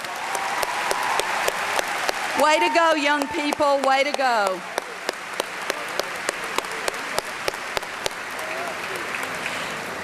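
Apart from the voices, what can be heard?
applause for the Central Mariachi Band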